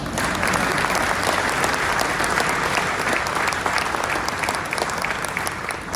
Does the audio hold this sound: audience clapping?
yes